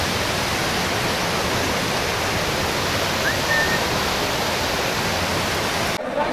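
A fast glacier-fed mountain river near Gaurikund on the Kedarnath trail rushes loudly and steadily as a dense, unbroken roar of water, cutting off abruptly near the end.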